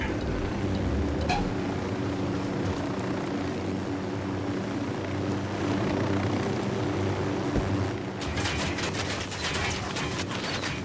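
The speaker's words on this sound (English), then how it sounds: "the dirt, helicopter. Chopper, down, down." Helicopter flying in the video game Ghost Recon Wildlands, a steady loud rotor drone sustained throughout, with a sharper rhythmic blade chop breaking through near the end.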